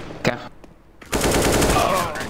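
Rapid bursts of automatic gunfire in CS:GO, a short volley followed by a sustained loud spray of shots, with a brief voice early on.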